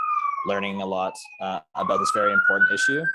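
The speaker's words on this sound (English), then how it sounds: "sorry for the sirens in the background. I live close to a busy street." Emergency sirens wail from a busy street outside a home, their rising and falling tones running steadily in the background beneath a man's close, continuous speech.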